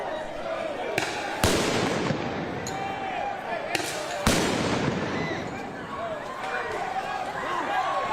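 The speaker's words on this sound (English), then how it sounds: "officers used flashbangs to move a group" Police flashbangs going off at a campus protest, two sharp loud bangs a few seconds apart over a crowd's shouting and commotion, with people talking nearby.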